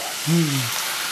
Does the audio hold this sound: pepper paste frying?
yes